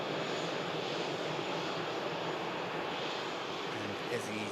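EasyJet airliner taxiing at Manchester Airport, a steady, loud jet engine roar with broad rushing noise that holds level throughout.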